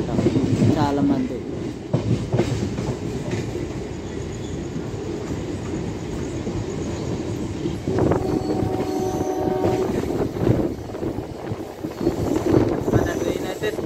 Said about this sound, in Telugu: మన ట్రైన్ అయితే స్పీడ్ అందుతుంది కానీ మళ్ళీ ఫాస్ట్గా.